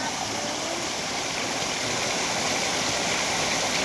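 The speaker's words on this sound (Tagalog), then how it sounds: "Yan yung daloy ng tubig." Stream water flows steadily with a constant rushing wash that holds an even level throughout, with no voices over it.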